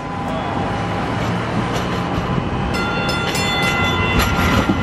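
Train rolling past on the B Line rail route, a steady loud rumble of wheels and carriages with faint clicking from the rails, continuous for several seconds and close by.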